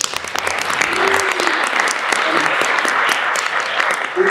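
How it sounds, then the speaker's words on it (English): An audience at an economic development breakfast event in Blacksburg breaks into brisk, sustained applause, dense clapping holding steady throughout with faint voices mixed in. "Please give them a round of applause."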